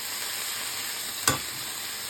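Water poured into a hot frying pan with Bengali shorshe bata (mustard paste) and data chorchori (vegetable stalks), a sudden sharp hiss that bursts up over a steady background frying sizzle and quickly fades, no talking.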